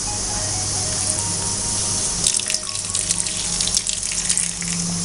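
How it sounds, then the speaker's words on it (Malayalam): Water poured from a tap into a pan of sprouted green gram stir-fry, a steady close splashing rush with brighter spattering toward the end, no voices. "ഇതിലോട്ട് കുറച്ച് വെള്ളം ചേർക്കുന്നുള്ളൂ"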